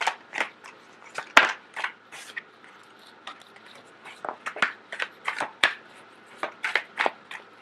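Tarot cards shuffled close up for a reading, a string of soft riffling and slapping bursts with irregular gaps and a couple of sharp snaps, quiet and without talk.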